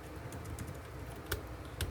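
Keys clicking on a Logitech K780 low-profile multi-device keyboard, a few light taps spread over two seconds against a steady low room hum, no talking.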